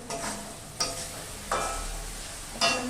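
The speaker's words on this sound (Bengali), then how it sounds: "মশলাটাকে ভালো করে কষিয়ে নেওয়ার পরে হলো জল দিয়ে দেবো" Masala for egg curry frying in a pan while being stirred: a steady close sizzle broken by four sharp scraping strokes of the spoon, with no talk.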